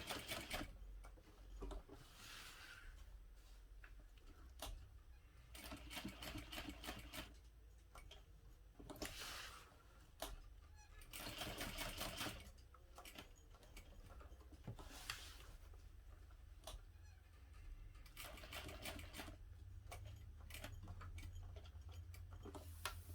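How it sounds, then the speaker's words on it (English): A sewing machine stitches a box with an X across a backpack strap, its needle ticking in quick, faint bursts that stop and start as each line is sewn, with quiet pauses between runs. "I'm going to sew it in the same way by sewing first a box, and then I'll sew an X in the center"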